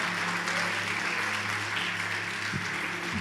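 A church congregation applauding during an online worship service, a steady wash of many hands clapping, moderately loud and unbroken, with a low sustained hum beneath it.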